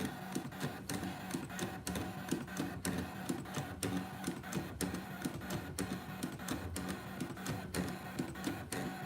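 A Brother ScanNCut cutting machine works steadily through a 3D frame, giving a continuous mechanical whirr and buzz broken by regular rapid clicks and ticks, close and fairly loud with no talking.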